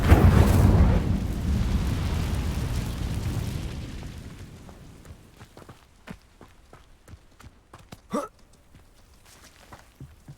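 An Incendio fire spell cast in Hogwarts Legacy, a loud whooshing burst that rumbles and fades over a few seconds, followed by quieter scattered footsteps and small clicks.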